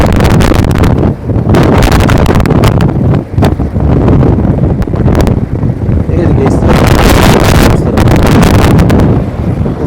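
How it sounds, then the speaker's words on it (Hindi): Heavy wind buffets the microphone while riding a bike on a road, a loud continuous roar with gusty surges throughout. "हवा मुसलसल चल रही है हमारे साथ में, तो उस वजह से आवाज़ में थोड़ी जंपलिंग हो सकती है"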